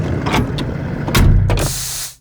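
Spaceship landing gear sound effect, layered mechanical whirs and motor movement with short clunks and a hissing release near the end, loud and isolated.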